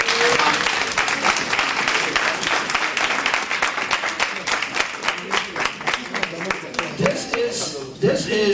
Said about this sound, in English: please stand up and give a round of applause to Mr. Douglas and his team for a very good job